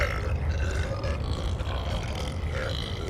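A cartoon character lets out a long, continuous burp, loud and close, with a rough, croaking texture sustained for about three seconds.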